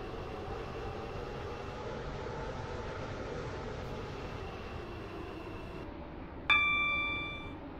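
Steady low rumble of a train running on the rails in the Roblox game Stepford County Railway, continuous and even, with a short bright chime tone near the end.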